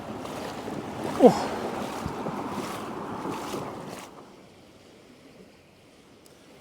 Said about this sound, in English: I'm quite shocked actually to how powerful this little stream is.